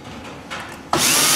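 Power drill driving screws into a roller deck during a SmartBoxx installation, a loud whirring burst kicking in near the end after quieter mechanical handling, no talk.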